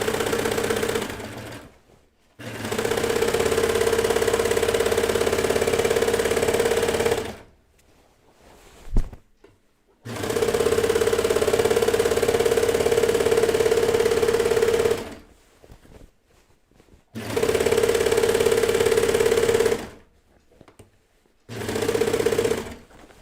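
A sewing machine stitches denim jeans in several sustained bursts of rapid, even mechanical whirring, each run several seconds long and separated by brief quiet pauses, close and clear.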